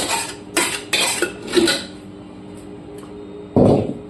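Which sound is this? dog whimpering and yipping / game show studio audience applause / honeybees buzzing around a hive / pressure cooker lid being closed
pressure cooker lid being closed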